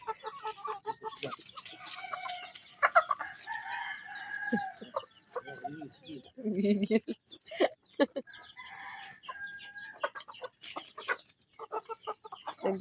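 Chickens and roosters at a Filipino backyard crow and cluck repeatedly, with several overlapping calls near and a little farther off, while a person briefly speaks.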